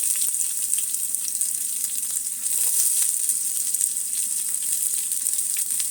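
Chopped onions fry in hot oil right after mustard seeds have popped, a steady close sizzle with fine crackle and no talk, while a home-style rooster curry is being made.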